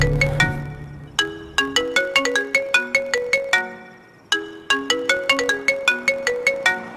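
A bright electronic ringtone chimes in a repeating melodic pattern, pausing briefly before the phrase starts again, loud and close with no talking.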